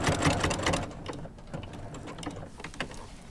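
A sewing machine stitches a quarter-inch seam through a quilted mug rug, whirring close in a steady run of fast rattling pulses that eases slightly in loudness partway through.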